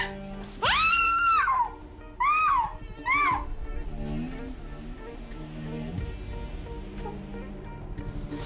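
A person screams in several loud, high-pitched bursts, rising and falling, over background noise, with a shorter scream following a long one, indoors in a dramatic scene.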